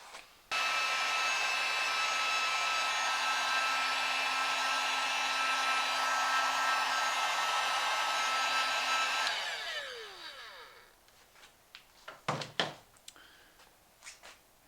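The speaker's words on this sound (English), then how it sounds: "And then blast it with a heat gun." A heat gun blows steadily on a solder-ring heat-shrink wire connector, a loud continuous airy roar for about nine seconds, then it winds down and is followed by a few light handling knocks.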